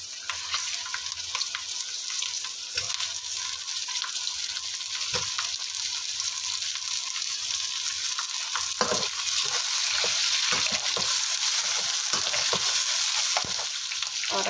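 Chicken fries with lightly browned onions for yakhni pulao, a constant close sizzle broken by repeated scraping stirs of a spoon in the pot, with no talking.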